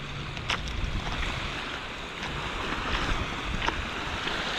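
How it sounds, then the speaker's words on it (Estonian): Waves wash over a pebble beach at Gouves on Crete in a steady, rushing roar, with a few brief clattering surges of stones breaking through the constant wash. "Kivikliburand."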